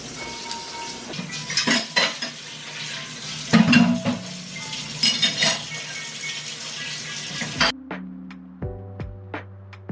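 Dishes and cutlery are washed at a home sink, with clattering pots and utensils and running water in bursts, close and fairly loud, then ending in a short run of electronic tones.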